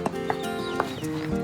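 A horse walking on a remote Australian cattle station, hooves clip-clopping in an uneven rhythm of several sharp knocks up close, with faint whinny-like tones and a low background hum, no talk.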